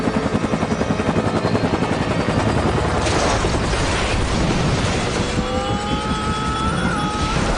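Helicopter in an action film scene inside a prison, a steady loud rotor-like drone with dense broadband roar throughout, rising whines near the end, no talk.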